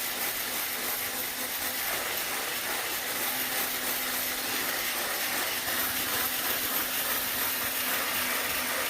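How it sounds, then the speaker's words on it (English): An electric whisk runs steadily, blending a mixture for ramekins in a home kitchen, a constant close whirring hum with no pauses. "And then I just re-whisk it with the electric whisk, so it's just well blended together."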